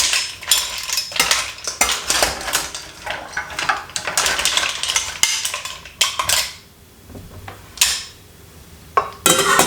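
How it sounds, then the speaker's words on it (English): A metal spoon scrapes and clinks against a pot while scooping out mussels and vegetables with celery and spring onion, a run of close, busy clatters that thins out into a few sparse knocks. "I got myself a spoon to get some more of the vegetables"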